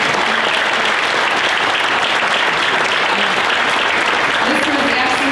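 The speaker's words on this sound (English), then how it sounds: "one more round of applause for them." Sustained, loud audience applause at an awards ceremony, a dense, even roar of many hands clapping throughout, with a few faint voices mixed in underneath.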